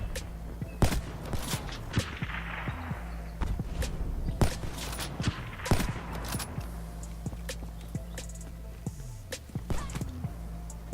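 Sharp scattered gunshots and impacts crack through a shooter video game match, with footstep-like clatter and a low steady engine or jetpack hum beneath, moderately quiet overall.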